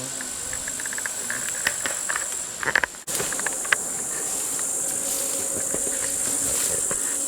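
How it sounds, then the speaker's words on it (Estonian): Horseflies and flies buzzing in a summer forest in Estonia, a steady insect drone with rising and falling whines close by, briefly interrupted by a short break, no talking. "on parmud, on kärbsed, on takistused meie teel."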